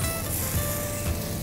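Toast and banana fry in a pan, giving a steady, even sizzle that holds at a constant level throughout the short stretch with no talking.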